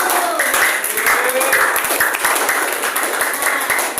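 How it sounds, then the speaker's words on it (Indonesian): A school class applauds a student group after their presentation on the human respiratory system, steady clapping filling the whole stretch at close range. "Tepuk tangan buat kelompok 7."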